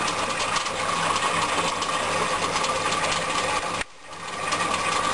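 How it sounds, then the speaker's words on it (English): A homemade vacuum pump runs steadily during an aquarium water change, giving a continuous mechanical hum and chatter that drops out briefly near the end before resuming, with no one talking. "The vacuum pump starts down here. It is now sucking air out the top of the aquarium"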